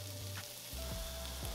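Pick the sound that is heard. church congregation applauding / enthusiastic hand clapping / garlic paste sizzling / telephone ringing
garlic paste sizzling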